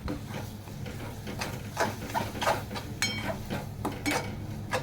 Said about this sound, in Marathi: आता 1-2-3 मिनटं हे चांगलं चटणीबरोबर मी परतून घेते